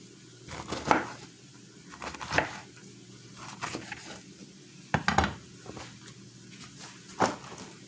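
A knife slices through vegetables during meal prep, with a series of firm, evenly spaced chops and thuds against a cutting board, close and fairly loud.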